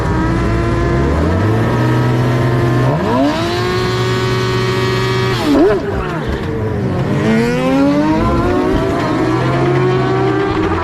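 F1000 single-seater race cars launch together at a race start at Oulton Park, engines revving hard and climbing through gears in loud, overlapping rising whines, one car close and dominant with others around it.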